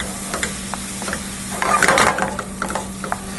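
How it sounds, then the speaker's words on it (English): Ratatouille vegetables seasoned with kosher salt sizzle in a hot pan while being stirred, a steady frying hiss with scraping stirs that swell briefly in the middle. "Make sure this just gets stirred around."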